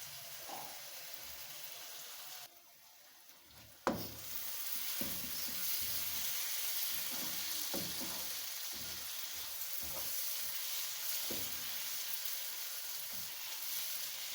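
Mash dal fries in a pan, a soft steady sizzle with scattered stirring clicks and scrapes, faint and close, after a brief quiet gap and a sharp knock, with no talk.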